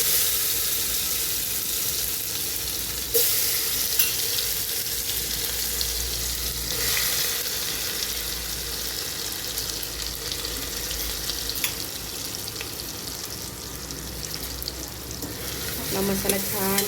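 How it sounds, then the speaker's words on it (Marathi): Spice masala frying in hot oil inside a pressure cooker, a loud continuous sizzle with scraping and stirring strokes running throughout, close to the microphone. "आपला मसाला छान भाजून घ्यायचा आहे परतून।"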